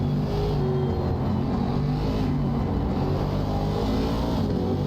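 Race car engines at a multiclass race at Barcelona, a Nissan closing on an Aston Martin, heard as a steady loud engine drone with a constant roar and no break.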